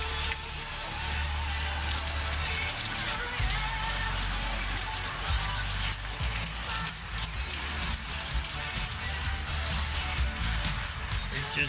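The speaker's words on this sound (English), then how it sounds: "It's raining like crazy when it rains." Heavy rain pours down steadily on surfaces outside, a dense, continuous hiss and patter that holds loud and unbroken throughout with no pauses.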